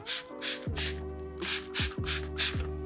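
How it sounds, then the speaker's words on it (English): A spray bottle mists slip solution of water and baby shampoo onto a Polestar 2 panel, with several short hissing bursts in quick succession, close and moderately loud over a low background tone. "go ahead and spray it down with your slip solution."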